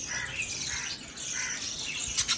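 Small pet lovebirds in a home aviary chirp and twitter continuously, a dense high-pitched chatter with no talking over it.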